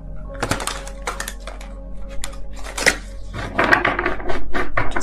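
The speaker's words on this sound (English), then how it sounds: "It's really hard to shuffle, but I love the artwork of this deck." Crisp clattering and riffling of a tarot card deck being shuffled by hand, with irregular bursts of card slaps and flicks that grow denser toward the end, close and fairly loud.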